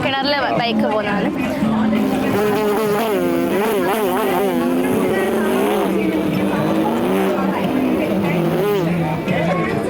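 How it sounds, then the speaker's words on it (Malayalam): A motorcycle circling inside a well-of-death wall at an amusement fair, its engine droning and whining in rising and falling pitch sweeps, loud and continuous, with the buzz of the crowd mixed in. "പിന്നെ ഒരു മരണക്കിണറിൽ ബൈക്ക് പോകുന്നതാണ്."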